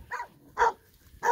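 A dog gives three short barks at an even pace, each brief and moderately loud, with quiet pauses between them.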